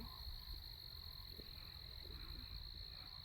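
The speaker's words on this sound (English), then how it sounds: "That's a bullfrog." A bullfrog croaks at night along Seven Gables Road, low and faint against a steady insect drone, with no voices heard.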